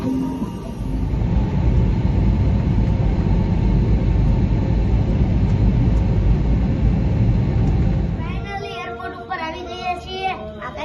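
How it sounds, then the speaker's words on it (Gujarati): A passenger plane's engines give a steady, loud broadband roar for about eight seconds before it cuts away to lively children's voices and chatter. "હવે આપણે પહોંચી ગયા છીએ પ્લેનમાં અને થોડીક ક્ષણોમાં ફ્લાઇટ સ્ટાર્ટ કરવી છે"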